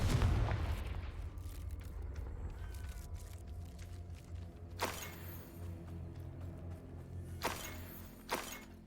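Confringo blasting spell explosions from Hogwarts Legacy, a spell-combat video game, with a loud opening blast followed by several sharp bursts later, over a steady game rumble.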